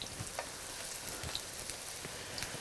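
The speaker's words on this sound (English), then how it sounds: "these fry up really quickly. It's just a minute or two on each side and they're done" Pupusas fry in hot oil in a pan, giving a soft, steady sizzle with scattered faint pops and crackles, quiet and continuous with no talking.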